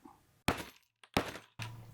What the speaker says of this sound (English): Thud. That makes a hole in leather.